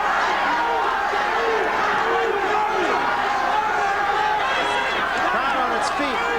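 A boxing crowd on its feet roars and cheers continuously, a loud, dense wall of voices with shouts rising through it, and a commentator's voice sits beneath the noise.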